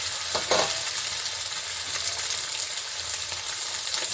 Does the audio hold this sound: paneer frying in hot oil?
yes